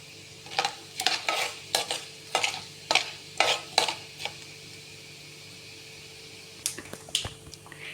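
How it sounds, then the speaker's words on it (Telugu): Mustard seeds, cumin and urad dal fry in hot oil, heard as sharp spattering pops and crackles in quick bursts for about four seconds, then a soft sizzle with a few final pops, with no talking. "ఇప్పుడు ఈ ఆయిల్లోకి కొద్దిగా ఆవాలు, కొద్దిగా జీలకర్ర, కొంచెం మినపప్పు వేసి దోరగా వేయించుకోవాలి."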